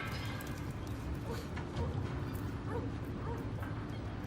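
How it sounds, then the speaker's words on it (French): A dog yips and whimpers softly at a distance, with faint voices and background noise throughout. "Sympa ton chien."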